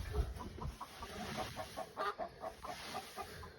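Chickens cluck inside a chicken coop with wood-shaving bedding, giving soft, repeated, fairly close clucks in an irregular rhythm over faint background noise.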